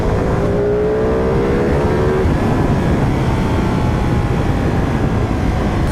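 A V-twin motorcycle engine screams at high revs above 7,000–8,000 rpm, loud and close, its pitch climbing steadily throughout.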